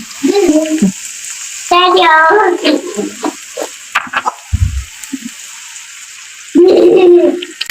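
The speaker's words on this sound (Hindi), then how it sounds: "अब इसमें हम थोड़ा सा पानी ऐड करेंगे।" Water splashes and hisses into a hot pan of pizza dough cooking without an oven, in short bursts, sizzling between pours, with a voice talking in the gaps.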